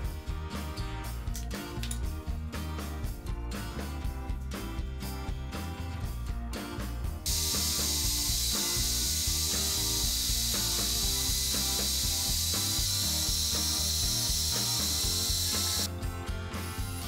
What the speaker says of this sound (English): Cut the base and cover and use a hand plane if needed.